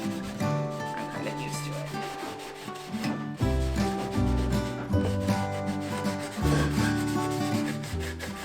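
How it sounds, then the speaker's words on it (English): Wood is sanded by hand for a rustic dining room piece, with rough scratchy rubbing strokes coming in repeated passes, close and moderately loud, beneath a brief spoken line and some tonal background. "I sanded it down so that it wouldn't be rough"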